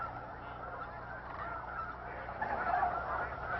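Geese honk at Bosque del Apache National Wildlife Refuge, a dense chorus of distant overlapping calls that swells louder toward the end, with cranes also present.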